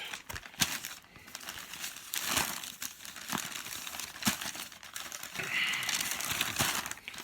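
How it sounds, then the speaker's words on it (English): Plastic wrap being peeled and crinkled off manga volumes, with bursts of crackling and crumpling close up, some sharper tearing and brief rustles throughout, and no talking. "A lot of unwrapping."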